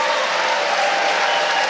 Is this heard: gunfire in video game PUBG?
no